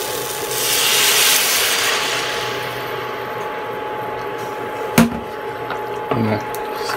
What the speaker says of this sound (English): We're going to add our vegetable stock to this.